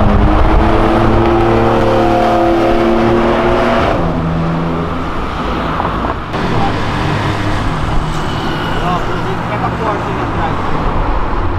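A Ferrari revs and accelerates hard close by on a street, its loud engine droning and climbing, then shifting in tone partway through while the roar stays strong throughout.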